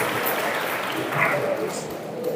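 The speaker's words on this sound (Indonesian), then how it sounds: "Tepuk tangan sekali lagi kepada abang kita." Audience applause at an education law workshop, a brief steady patter of clapping mixed with murmuring voices in the hall.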